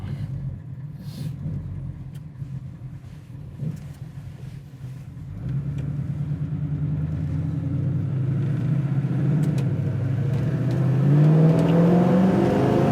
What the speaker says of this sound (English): Nice smooth shift there into second. Nice shift to third.